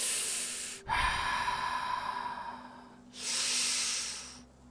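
A voice imitates sharp breathing drawn through clenched teeth during a tabletop role-playing game, giving two long hissing inhalations separated by a brief pause, close to the microphone.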